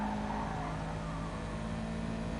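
A 1999 Nissan touring car engine in Gran Turismo Sport at Kyoto, a steady droning buzz at sustained revs that stays constant and close throughout, with no talk over it.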